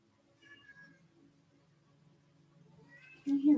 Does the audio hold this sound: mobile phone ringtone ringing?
no